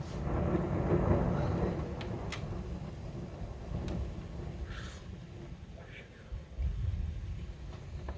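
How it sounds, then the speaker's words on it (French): Deep, rolling rumble of thunder from a strong, nearby thunderstorm in Alsace, spreading across the stretch, with rain-like wash and occasional faint voices in the background. "Les éclairs sont proches. Et là, à mon avis, l'orage va passer sur mon village"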